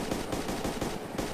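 Rapid automatic gunfire in the video game DayZ during a helicopter fight, a dense continuous burst of shots rattling evenly through the moment with no voices over it.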